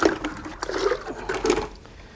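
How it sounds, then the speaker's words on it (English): Water is poured into a bucket of mortar mix, a short close splashing and gurgling pour that tapers off. "Let's add the water and mix the mortar up to a consistency"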